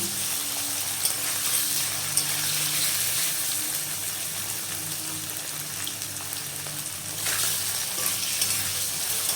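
Pointed gourd and paneer fry in a pan with a steady, continuous sizzle and occasional stirring, loud and close with no voices.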